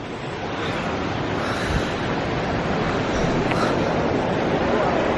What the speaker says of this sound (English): this is the water under the bridge. Very picturesque, flowing down through.